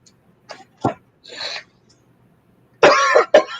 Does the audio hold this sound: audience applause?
no